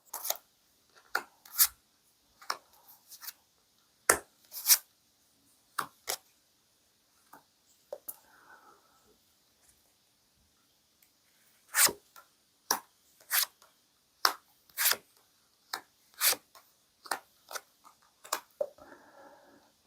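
Tarot cards being shuffled and drawn for a love reading: a series of sharp, crisp card snaps and flicks in irregular bursts, close and fairly quiet, with soft sliding rustles between them and no talking.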